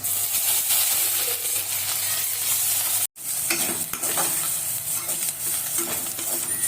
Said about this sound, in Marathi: अशा प्रकारे आपला मसाला भाजून झाला